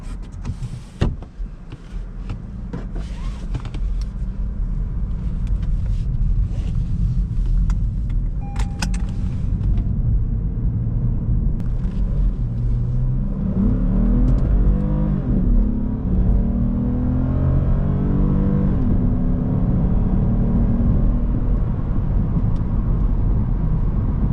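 Interior of a 2015 Lexus IS250 F Sport with its smaller V6, a few clicks and a brief whirring at first, then a smooth, steady engine drone building as the car accelerates, heard close from the driver's seat.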